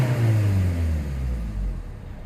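A 2010 Ford Galaxy 2.0 TDCi diesel engine, which has a fault that makes it cut out, idles steadily at low revs, a deep rumbling hum that dips slightly partway through, close and continuous with no voices.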